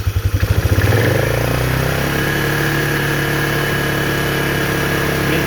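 A Polaris Trail Boss 325 ATV engine with a carburetor problem revs up from a low pulsing idle to a steady, loud, sustained higher-throttle drone held for several seconds, close by with no talking.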